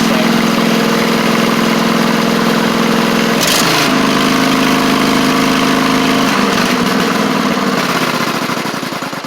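A Briggs & Stratton V-twin engine on a Poulan Pro (Craftsman) riding mower idles steadily through a loud muffler, with a deep continuous hum throughout and a brief rev change partway through.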